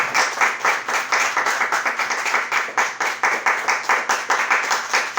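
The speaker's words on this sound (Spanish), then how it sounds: "Podemos alabar al Señor con un fuerte aplauso en esta mañana" A church congregation at a Sunday morning service claps in loud, rhythmic unison, each beat evenly spaced and repeating steadily for several seconds.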